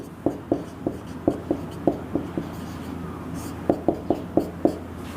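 Chalk tapping and scraping on a classroom board during a maths lesson, a run of short, sharp strokes in quick bursts with a pause in the middle, close and clear over quiet room tone.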